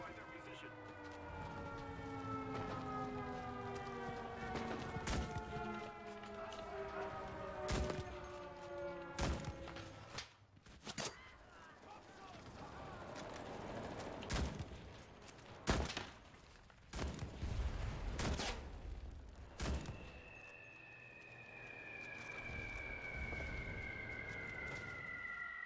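Video game gunfire crackles in rapid bursts of sharp, loud shots over a droning siren-like tone that rises and falls, with heavy thumps scattered through the fight.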